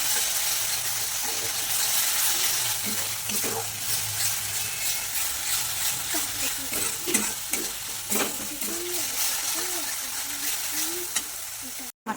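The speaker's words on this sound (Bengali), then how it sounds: "মাছ ঝোলটা এখন ফুটছে, প্রায় হয়ে এসছে।" Bhola fish curry in mustard oil bubbling and sizzling in a wok, a continuous soft frying hiss with occasional stirring and faint talk nearby.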